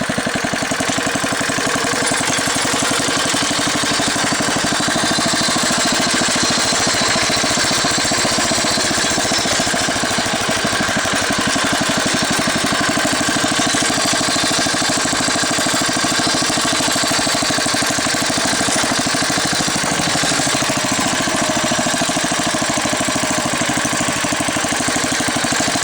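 A homemade tractor's engine runs steadily in high third gear, its fastest, with a loud, continuous rattling drone and fast rhythmic knocking that holds near and unbroken throughout, with no voices.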